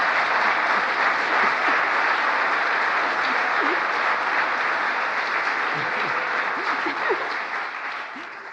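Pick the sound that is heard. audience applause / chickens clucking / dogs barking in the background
audience applause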